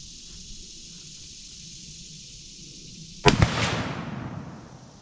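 A single loud rifle shot at a target cracks sharply near the end, then decays over a ringing second, after a quiet stretch of steady high hiss.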